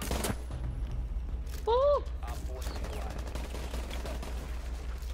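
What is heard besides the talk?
gunfire from a video game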